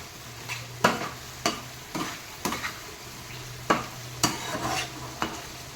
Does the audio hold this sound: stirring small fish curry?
yes